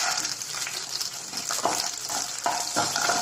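A lump of asafoetida stirred and fried in a pan while making Kerala sambar, with a steady sizzle of hot oil and soft scraping strokes of the spoon recurring throughout, close and fairly loud.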